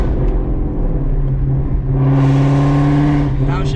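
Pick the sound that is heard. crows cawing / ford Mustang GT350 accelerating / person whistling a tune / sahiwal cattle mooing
ford Mustang GT350 accelerating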